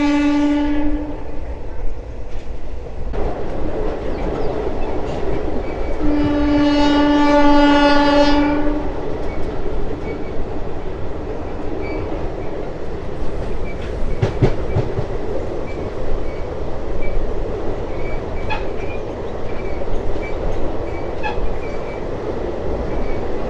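A passenger train runs from Haridwar to Dehradun. Its loud horn blares at the start and again a few seconds later, then the carriages rumble on with a continuous clickety-clack.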